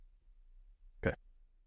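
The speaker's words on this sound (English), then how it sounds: "I have to burp." A single short, close burp from a man rises out of near silence and fades quickly.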